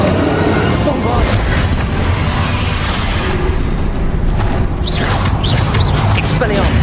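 Bombarda spell blasts in the video game Hogwarts Legacy, a dense, loud run of booming impacts and crackling debris with whooshing spell effects, continuous and layered with other combat noise throughout.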